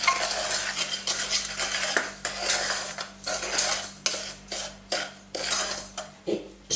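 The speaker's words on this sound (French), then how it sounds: "Je mélange toutes mes poudres." Fine salt and dry powders for homemade play dough are stirred in a bowl: a steady series of gritty, scraping sweeps, close and moderately loud, repeating in an uneven rhythm without speech.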